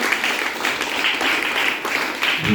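A crowd at a village school's Republic Day event in Konkan claps vigorously to welcome the school committee, dense steady applause throughout the short stretch.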